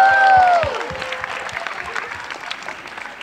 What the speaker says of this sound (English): A big round of applause for our students.